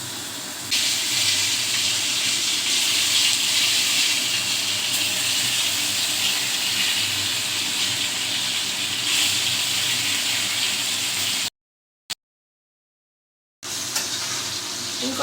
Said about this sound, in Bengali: এবার কপিগুলো ভেজে দেবো